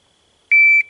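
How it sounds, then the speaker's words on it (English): A single short, pure electronic start beep from a shooting drill timer, sharp and clear against near silence and lasting about a third of a second. "you're going to hear a beep, and it's going to be on."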